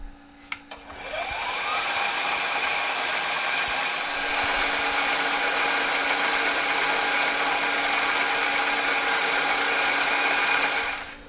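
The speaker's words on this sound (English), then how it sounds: "Okay, I'm drilling the second hole" A steady, high-pitched mechanical whine from a machine drill boring a hole in metal runs continuously, rising quickly at the start and then holding, with no talking.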